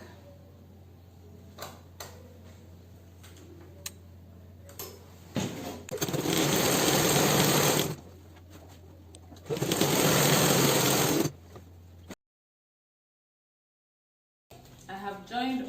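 A sewing machine joins gore skirt panels in bursts: two long loud runs of stitching, each lasting about two seconds, with quieter handling sounds and a brief gap in between.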